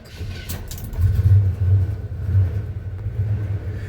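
A 1975 Chevy C10 pickup engine cranks and catches, then settles into a deep, close rumble that swells and holds steady for a few seconds with no talking.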